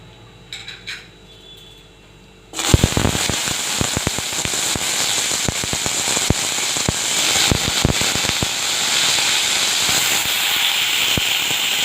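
Mung dal dropped into hot oil for tempering a vegetarian banana-flower curry, bursting into a loud continuous sizzle with dense crackles and pops after a few quiet seconds of kitchen clatter.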